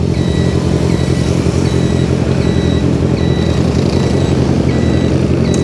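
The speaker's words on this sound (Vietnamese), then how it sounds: "xe cộ rất là đông" Dense, loud street traffic with motorcycles, a constant roar of engines and road noise throughout, with a repeating high electronic beep pulsing over it.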